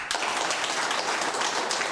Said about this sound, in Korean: 이분들 박수 한번 보내주시죠.